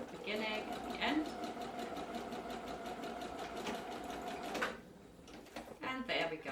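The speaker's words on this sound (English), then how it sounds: "Now I'm just going to sew this together, 1 centimeter seam allowance" A sewing machine stitching a fabric seam with a 1 centimetre seam allowance for a peasant top's neckline facing, running as a steady close whir that stops briefly near the end.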